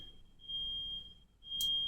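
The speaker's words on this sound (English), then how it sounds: "My apologies for that beeping you hear in the background, guys. I think it's somebody's smoke alarm" A smoke alarm in a neighbouring flat gives a thin, steady high-pitched beep that holds for most of the moment, faint and distant under a low room hum.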